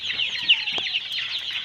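Broiler chicks crowded in a poultry shed during hot weather cluck and chirp continuously at close range, a dense, steady chorus of overlapping calls with no speech.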